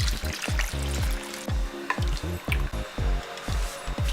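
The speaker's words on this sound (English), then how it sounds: "Now I'm going to add 4 glasses of hot water." Hot water is poured glass by glass into a cooking pot of soaked basmati rice and red dal for a Hyderabadi dish, making a series of close, gurgling, splashing pours with short pauses between them.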